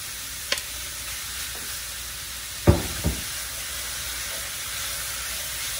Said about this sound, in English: We just gonna saute everything together. She says you don't need no oil because you're using bacon